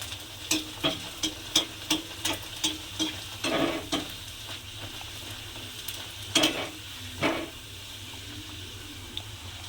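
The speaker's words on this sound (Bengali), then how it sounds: "কচুরিটা আমি তেলের মধ্যে দিয়ে আস্তে আস্তে ভেজে নেব" Fish kachori deep-frying slowly in hot oil, giving a steady sizzle broken by repeated sharp clicks and scrapes of a utensil turning the pieces, with a few louder bursts of bubbling.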